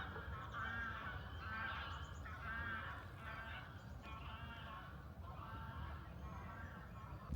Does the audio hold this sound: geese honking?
yes